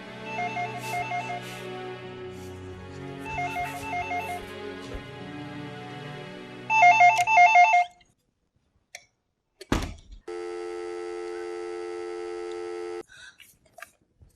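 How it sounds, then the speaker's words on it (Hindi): A telephone rings in repeated electronic bursts, the last one louder, followed by a sharp click and a steady line tone. "इतनी रात को कौन फोन कर रहा है?"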